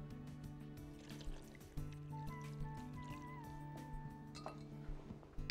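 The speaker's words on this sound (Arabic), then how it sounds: "واخد معايا حبه ميه" Water trickles and pours into a container while a lemon and basil drink is prepared, a soft, intermittent liquid dribble with light kitchen clinks and a faint tonal hum behind it.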